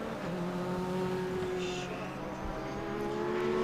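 Race car engines at full throttle during a SpeedTour race at Road Atlanta, a sustained droning roar of several cars at speed, moderately distant, under a commentator's voice.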